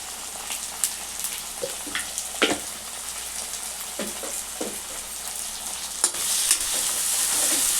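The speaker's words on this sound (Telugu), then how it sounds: "ఈ అల్లము కొంచెము వాసన పోయే వరకు కొంచెం మంచిగా వేయించుకోవాలి" Chopped ginger fries in a pan for a ridge gourd and egg curry, with a steady close sizzle broken by scattered scraping clicks of stirring and no voices.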